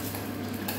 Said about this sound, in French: là, je fais fondre le beurre